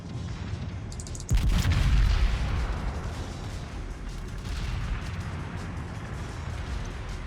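Bismarck battleship anti-aircraft guns in World of Warships fire at incoming aircraft: a sudden heavy boom, then a dense stretch of rumbling, crackling bursts that fades slightly and continues.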